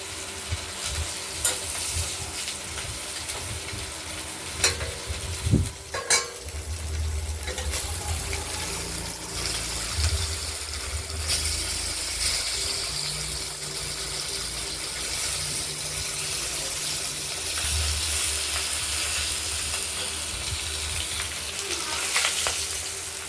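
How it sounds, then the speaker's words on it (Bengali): Katla fish frying in a pan for a potato and tomato fish curry, a steady close sizzle running throughout with scattered clinks and scrapes of stirring, no talking. "মাছগুলো ভাজা হয়ে গেছে"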